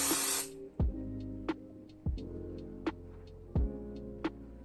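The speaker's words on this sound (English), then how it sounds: "So some dry shampoo, like, it's good for volume." A dry shampoo can hisses in one short spray burst onto hair at the start, followed by soft, quiet knocks and handling sounds close by.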